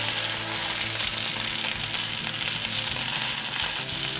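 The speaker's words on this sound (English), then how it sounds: "I like the turkey to be a little warmed up right from the pan, so it's just like a quick fry." Turkey slices quick-fry in a hot pan with a loud, dense, continuous sizzle and crackle, close up and steady throughout, with no voices.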